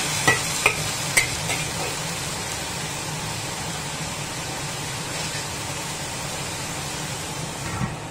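Water spinach stir-fried in a hot wok right after rice wine is splashed in, giving a steady close sizzling hiss with a few sharp clinks of the spatula against the metal near the start.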